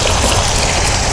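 Water splashes steadily in a round throne bowl fountain, a dense close hiss of falling, aerated water with no pauses.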